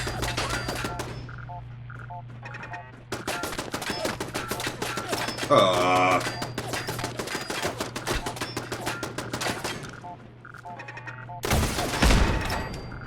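Video-game gunfire and missiles from Fallout 4 in rapid, dense bursts of shots with louder blasts and a final heavy impact, all loud and close.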